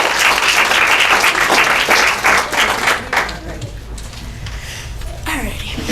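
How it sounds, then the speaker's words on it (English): Audience applause at a graduation ceremony, a loud dense round of clapping that tapers off after about three seconds, followed by a speaker's voice over a quieter room. "Can we give her another round of applause?"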